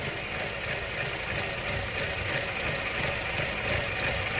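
A car engine idles close by with a rough, slightly uneven, wavering note as the idle hunts, under a broad mechanical hiss, no voices present.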